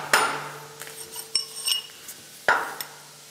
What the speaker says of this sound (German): Stefan Zydek staucht das Material mit dem Hammer, um etwas mehr Masse zu bekommen für den nächsten Schritt.